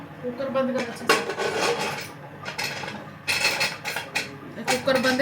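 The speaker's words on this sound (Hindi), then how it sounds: "कुकर बंद कर अच्छे से।" Metal pots and utensils clatter and scrape as a pressure cooker lid is pushed shut in a home kitchen, with a spoon knocking against the pot, several sharp bursts of clanking amid people talking nearby.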